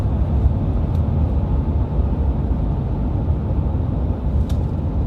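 A 2016 Nissan Titan XD pickup with a Cummins diesel engine coasts on the highway, heard from inside the cab. There is only a steady, muted road and wind rumble, and the engine note is barely present.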